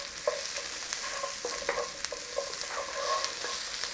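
Beef, ginger, onions and spring onions sizzle in a hot stir-fry pan, with steady frying hiss broken by repeated scrapes and clicks of stirring, close and alone.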